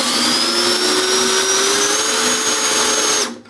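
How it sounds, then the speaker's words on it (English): A power drill with a half inch bit bores into a Dana 60 axle housing, giving a loud, steady high whine that holds for about three seconds and then cuts off abruptly. "we're going to use a half inch bit to mark the hole"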